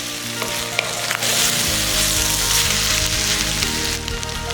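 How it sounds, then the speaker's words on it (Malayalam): Spring onion and capsicum stir-fried for a Thai dish give a loud, steady sizzle with scraping stir strokes throughout, no voices. "അരിഞ്ഞു വെച്ചിരിക്കുന്ന സ്പ്രിംഗ് ഒനിയനും ക്യാപ്സിക്കവും കൂടെ ഇതിലേക്ക് ചേർക്കാം. നല്ലതുപോലെ ഒന്ന് മിക്സ് ചെയ്യുക."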